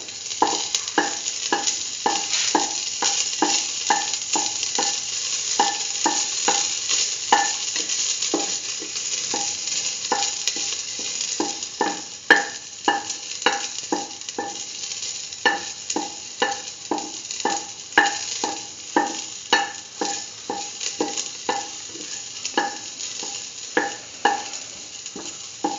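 Split chickpea and yam stew with ginger and salt stirred in a pot, a spoon scraping in a steady run of quick, close strokes over a soft constant sizzle, with no talking.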